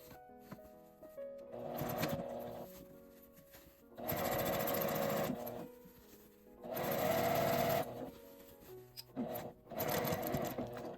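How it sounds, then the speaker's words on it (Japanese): A sewing machine stitches a seam around a fabric drawstring bag in several bursts, each a fast, loud, even whirring run separated by short quiet pauses, nearby and with no talking. "上端から2センチのところも一周縫います。"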